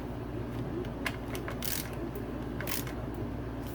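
Ratchet tightening titanium bolts on a dirt bike steering stem, with a few short sharp clicking bursts spread over a few seconds, close and moderately loud above a steady background hiss.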